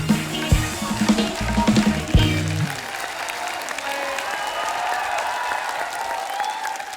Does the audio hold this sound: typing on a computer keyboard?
no